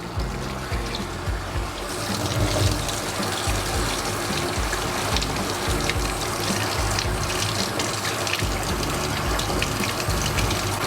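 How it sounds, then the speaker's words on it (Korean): A handheld shower sprays a steady stream of water to rinse a dog's face, producing a continuous, fairly loud hiss and gush that runs throughout without pause. "얼굴을 헹굴 때도 이 샤워기로 강아지가 놀라지 않도록 볼 부분에서 물줄기가 가서 얼굴이 씻겨지도록"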